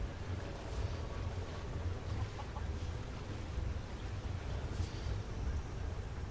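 A natural waterfall in the Skyrim video game gives a steady broadband rush of falling water with a low rumble, continuous and even throughout with no talk over it.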